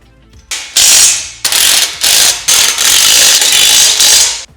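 A ratchet wrench tightens bolts holding a crossbar between the front legs of a Holman Pro roof rack on a Ford F-150, giving several loud, close bursts of rapid ratcheting separated by brief pauses, with no talking.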